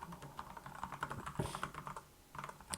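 Someone types a chart title on a computer keyboard in a quick run of close, crisp key clicks, with a short pause near the end and no talk.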